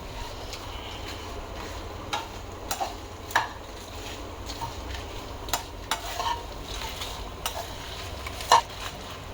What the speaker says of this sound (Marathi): त्यातच आपण खोबरं घालणार आहोत हे सगळं एकत्र परतून घेतलं ना की व्यवस्थित परतलं पण जातं